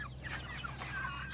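Chickens on an organic farm cluck softly in the background, the calls faint and scattered over a steady low rumble, with no talking.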